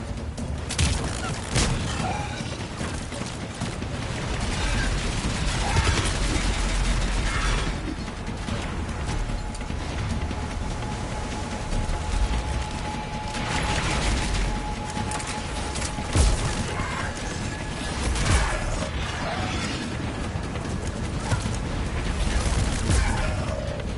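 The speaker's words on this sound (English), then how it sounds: "Commander, I've got enemy contact. Under fire." Rapid gunfire from a Mass Effect 3 firefight crackles in dense, overlapping bursts with occasional heavier booms, running steadily under a busy mix of game effects and a faint tone.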